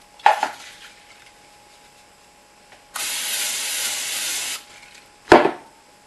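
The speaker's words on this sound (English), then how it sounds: "I have a plastic bowl here, which I will spray with some cooking spray" Two short bursts of cooking spray hiss into a plastic bowl, with a longer steady hissing spray in between, close up and fairly loud against a quiet room.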